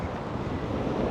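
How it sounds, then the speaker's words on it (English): Strong wind buffets the microphone over choppy North Sea waves beside the old pier remnants at Great Yarmouth, a dense steady roar of surf and gusts with no voices. "it's quite windy, but this is obviously straight from the North Sea"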